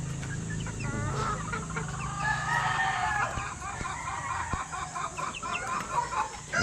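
Roosters and hens on a small minifarm, several cocks crowing in overlapping calls amid steady clucking, fairly close, with a continuous background hum and no talk.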